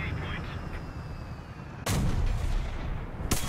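Tank cannon fire in War Thunder booms twice, a loud heavy blast followed by a sustained rumble and then a second sharp shot, all close and dominating the game's ambient noise.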